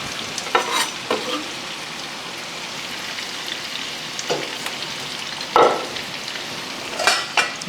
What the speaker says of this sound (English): And you can give it a good mix.